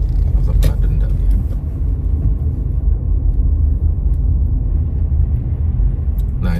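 A car rolls along a wet, slushy road during snowfall, its tyres and engine making a steady, close, low rumble that holds for the whole stretch with little change.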